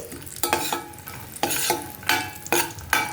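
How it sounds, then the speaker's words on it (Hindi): Pistachios roasting in a pan for a festive Janmashtami sweet, with four distinct bursts of rattling, scraping stirring over a low steady sizzle, spaced about half a second to a second apart; no talking. "तो पिस्ता को भी 1 मिनट के लिए हम भून लेंगे।"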